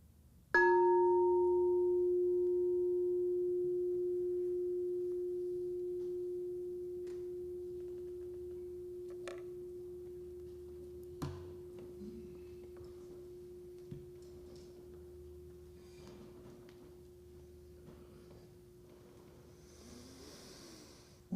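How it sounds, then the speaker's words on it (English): A meditation bell is struck once and rings with a clear sustained tone that slowly fades over many seconds in a quiet room, with a few faint knocks and rustles underneath. "And here is the sound of the bell."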